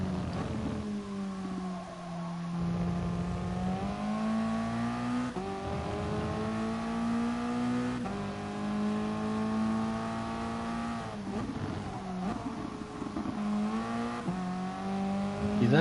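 A Toyota race car lapping Catalunya, heard from onboard as a loud, sustained engine drone whose pitch climbs through the gears, drops on braking, and rises again with repeated shifts.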